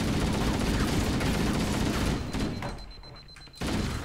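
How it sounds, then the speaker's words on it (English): Needle gun fire in Halo: Combat Evolved, a loud, dense, rapid stream of crackling shots that drops away sharply near the end and then returns. "Stupid needle guns."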